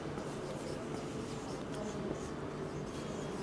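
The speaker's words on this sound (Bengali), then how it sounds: "আমি একটু বোর্ডে লিখি, তোমরাও লিখে নাও।" Chalk or marker scratching across a classroom board in a steady run of short strokes, close and continuous, with low room noise behind and no voices.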